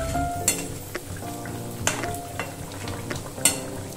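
Small parshe fish slipped one by one into a pan of thin, simmering Bengali curry with potato and ridge gourd, giving a steady close bubbling and stirring texture with a few sharp clinks and splashes and no voices.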